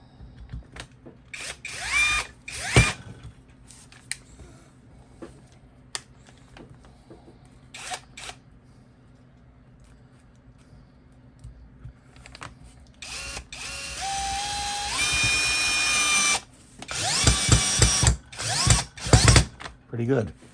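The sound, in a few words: Seyvum 12V cordless brushless drill driving in a screw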